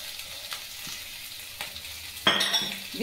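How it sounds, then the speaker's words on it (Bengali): Spices fried in a pan for a hill-vegetable squash curry, quiet at first with soft stirring scrapes, then a sudden loud sizzle burst near the end as ingredients hit the hot oil. "দিয়ে এটাকে এবার খুব ভালো করে কষিয়ে নিতে হবে।"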